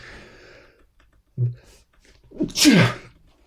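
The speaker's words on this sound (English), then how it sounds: "I was going to say I'm about to sneeze, but I didn't quite get that out." A close, forceful sneeze near the end, preceded by a quick inhale, after a soft murmur and a short thump.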